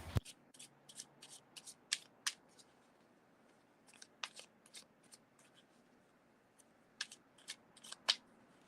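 Quiet, close-up card shuffling: repeated crisp riffling bursts in irregular clusters, with soft pauses between.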